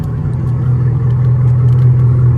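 A straight-piped 2017 Camaro SS V8 at night, a loud, steady, deep rumbling drone heard from inside the car with no talk.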